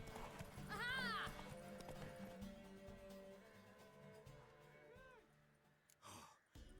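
A horse in The Witcher 3 snorts and whinnies with a rising, wavering neigh, then neighs again later, while hooves clip-clop softly and voices speak between.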